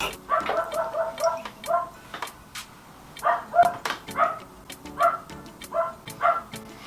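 A neighbour's dog barks repeatedly from next door, a series of short yaps in irregular bursts, moderately loud but slightly muffled as if heard through a closed door.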